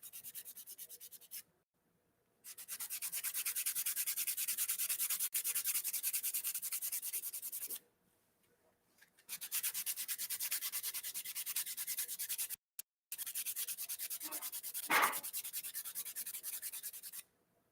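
Hand sanding of a briar pipe in a workshop, long steady scratchy rubbing strokes in several sustained passes separated by short pauses, close and fairly loud with no talking.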